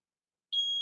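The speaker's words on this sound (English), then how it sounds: "That was my smoke alarm." A household smoke alarm gives a single sharp, high-pitched beep that starts abruptly after a moment of silence.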